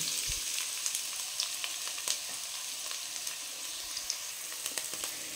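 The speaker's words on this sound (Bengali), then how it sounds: "একটা ননস্টিক প্যানে অল্প 2 স্পুন তেল দিয়ে দিয়েছি। এর মধ্যে দিয়ে দেবো পেঁয়াজ কুচি।" Chopped onion sizzles in about two spoons of oil in a nonstick pan, a steady soft hiss with scattered small crackles and no talking.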